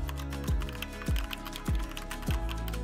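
Brown-switch mechanical keyboard keystrokes with soft thocks, four heavier presses spaced evenly about half a second apart over a humming background.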